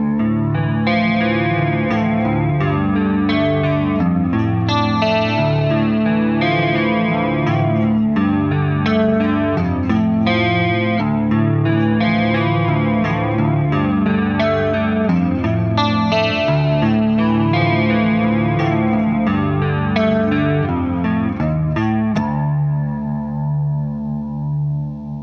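An electric guitar runs through an MXR 10 Band EQ pedal, playing a continuous, full, distorted riff with chorus-like shimmer, loud and steady for the whole stretch before a final ringing chord fades.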